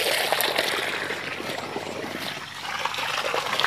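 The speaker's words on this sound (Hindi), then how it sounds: "तो ये रहा दोस्तों पानी निकल रहा है" Water trickles and splashes steadily while laundry is being washed after bathing a child outdoors, a close, continuous running stream with light splatter.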